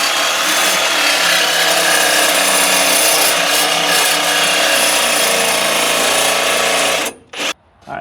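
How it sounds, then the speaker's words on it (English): A Sawzall reciprocating saw cuts into metal on an abandoned 1971 Ford F100 pickup, a loud, close, continuous buzzing rasp that runs steadily for several seconds and then stops abruptly with a couple of short bursts. "Sawzall it is, I guess."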